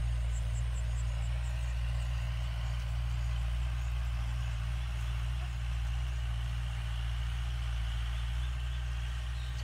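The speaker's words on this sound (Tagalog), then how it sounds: "So sa mga nagtatanong sa anong traktora yan, so Kubota po yan." A Kubota tractor engine runs steadily in a harvested corn field, a continuous low mechanical drone with a faint higher whine, close and unchanging throughout.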